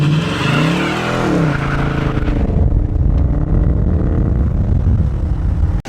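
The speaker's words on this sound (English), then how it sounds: "Just hold down on the brake a little bit and then give it a little gas." A 2020 Dodge Challenger R/T with the 5.7L HEMI V8 revs hard while held on the brake for a burnout, a loud, close engine roar rising in pitch and then settling into a rough, sustained rumble with tire noise.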